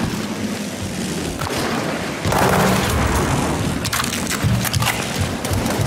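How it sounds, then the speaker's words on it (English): Airstrike explosions in the video game World War 3 roll in as a dense, continuous wall of booming blasts and crackling debris, loud and sustained across the whole span, with a heavier burst partway through. "Enemy airstrike fast approaching."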